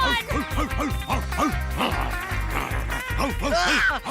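Repeated cartoonish dog barks in a quick rhythmic series, loud and close, with other animated voices and noises layered underneath.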